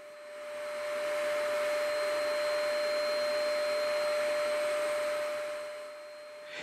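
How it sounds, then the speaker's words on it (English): A spray gun applies water-based finish to a bass guitar body and neck, producing a steady, loud hissing whoosh with a constant high whine that swells in and fades out, with no talk. "I went ahead and sprayed my final 3 coats on the body and did the same thing with"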